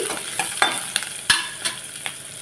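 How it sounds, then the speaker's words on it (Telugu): Onions frying for a gongura and dried prawn curry, with a steady crackling sizzle broken by several sharp stirring scrapes of a spoon against the pan, close and fairly loud with no talking. "ఇక్కడ ఉల్లిపాయలు కూడా వేగిపోయాయి"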